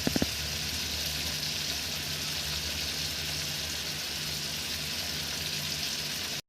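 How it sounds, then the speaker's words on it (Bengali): Marinated fish deep fries in hot oil with a dense, continuous, steady sizzle and bubbling, close and loud from start to finish, with a couple of brief clicks at the very start. "আর আমি মাছগুলোকে ছেড়ে দিয়েছিলাম, ম্যারিনেট করে রেখে দিয়েছিলাম বেশ কিছুক্ষণ, তারপরে মাছগুলোকে ছেড়ে দিয়েছিলাম, আর এখানে ডিপ ফ্রাই করছিলাম আর কি"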